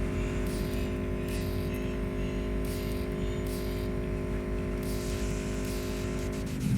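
A steady in-game motorcycle engine in Cyberpunk 2077 drones at a constant pitch, with a loud, sustained hum and faint higher whine throughout, no talking.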